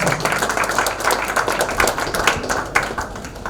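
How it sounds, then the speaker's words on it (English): An audience claps to welcome a speaker onto the stage at an AI talk, a dense patter of many hands that stays fairly even before fading slightly at the end. "Can we have a huge round of applause to welcome"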